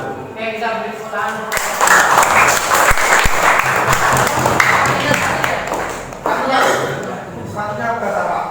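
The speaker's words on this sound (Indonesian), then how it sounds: "Oke, kita beri tepuk tangan." A classroom audience bursts into loud, dense clapping that holds steady for several seconds, fades briefly, then swells again, with a few chuckles and voices mixed in.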